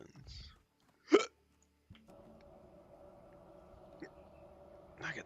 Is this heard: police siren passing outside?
no